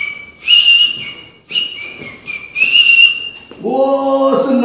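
Someone whistles a cheerful melody in short phrases with brief pauses, close and clear, ending with a warbling, bird-like trill.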